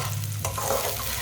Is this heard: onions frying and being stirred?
yes